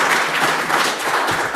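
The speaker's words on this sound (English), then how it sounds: "So let's give our Fishbowl participants a big round of applause." An audience at a state leaders' forum applauds the panel participants, a steady, dense patter of clapping from many hands, fairly near and with no talking.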